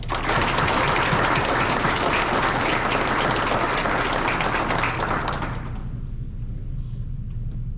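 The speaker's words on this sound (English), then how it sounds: "Please join me in giving these award recipients a round of applause." Dense, steady applause from a large audience at a US Border Patrol graduation ceremony fills the air, then fades to a quieter room hum near the end.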